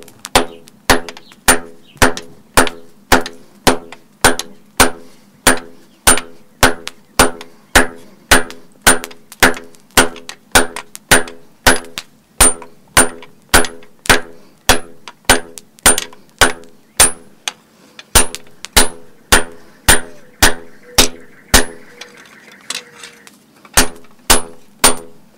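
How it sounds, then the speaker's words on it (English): A hammer strikes hot steel on an anvil in a fast, even rhythm of loud ringing blows while a knife tang is drawn down at the forge, with a brief pause near the end. "Now we take it over to the anvil. Work on this tang just a little bit."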